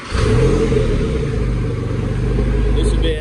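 A Porsche 996 engine runs loud and close, a steady throaty drone that swells slightly as it is revved, with no speech heard.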